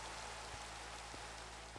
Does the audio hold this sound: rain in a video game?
yes